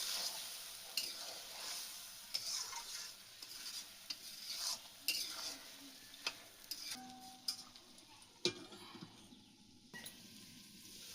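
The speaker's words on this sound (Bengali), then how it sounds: "আস্তে আস্তে করে ভাজবো এটা" Prawns fry gently in a pan for a Bengali prawn curry with kachu lati. A faint, soft sizzle runs throughout, broken by scattered ticking and scraping from stirring and a sharp clank near the end.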